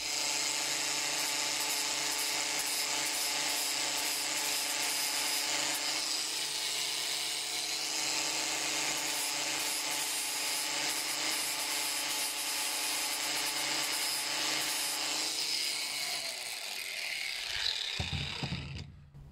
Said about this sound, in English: Get some wire wheel or something on that.